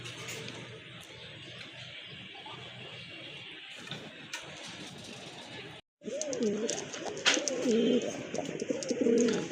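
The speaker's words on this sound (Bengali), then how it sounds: "বিগ সাইজের এক জোড়া কবুতর এটা হচ্ছে আপনার ময়না কবুতর" A large, deep-red pair of Moyna pigeons coo close by. Their rolling, throaty calls are clearest in the second half, after a brief dropout, over a noisy background.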